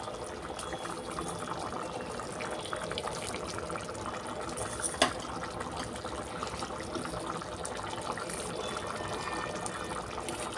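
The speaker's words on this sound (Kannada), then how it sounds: "ಈಗ ಕುದೀತಾ ಇದೆ." A pot of mixed vegetable bath simmers on the stove, a steady watery bubbling and seething that runs throughout at moderate level, with one brief louder clink partway through.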